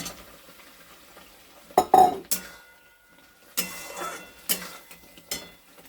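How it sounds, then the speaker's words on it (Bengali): Potatoes and peas tipped into frying spice masala in a pan, heard as a few sharp clinks and scrapes of a spoon against metal in separate bursts, fairly quiet with near silence between them. "এবার এই আলু আর মটরশুঁটিটা একটু দিয়ে দিচ্ছি।"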